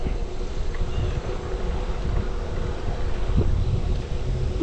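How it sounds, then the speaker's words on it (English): Steady wind rushing against the microphone during an Optibike Argon e-bike ride in a slight breeze, a continuous broadband roar with low buffeting and no talking. "We got a slight breeze today"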